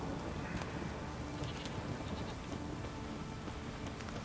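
Steady rain in the fantasy game The Witcher 3, a dense, even patter that fills the whole stretch without pause, with a few faint animal-like bleats poking through the wash.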